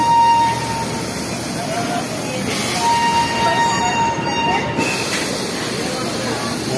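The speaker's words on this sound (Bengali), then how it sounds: "পাক্কা 9টার সময় ট্রেন ছাড়লো।" The 13147 Uttarbanga Express pulls away after an engine swap for an engine fault, a loud steady rumble of rolling wagons with faint wheel squeal throughout, and a voice briefly speaks over it.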